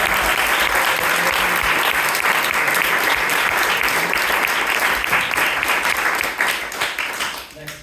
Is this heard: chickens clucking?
no